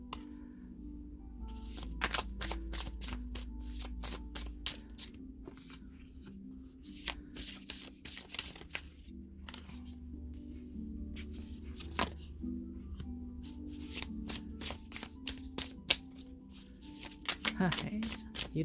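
A tarot deck is shuffled by hand for a reading, with quick bursts of riffling and flicking cards repeated in uneven clusters, close and crisp, with a voice speaking softly between them.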